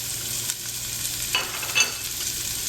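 Mirepoix onions fry in oil in a soup pot with a steady, fairly close sizzle, broken by a few soft stirring clicks and scrapes. No voices.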